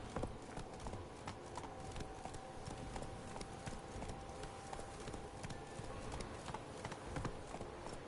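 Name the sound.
horse Roach galloping in The Witcher 3 video game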